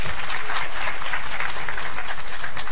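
A live audience claps steadily for a participant, a dense, loud, continuous wash of applause that fills the whole moment with no voices on top.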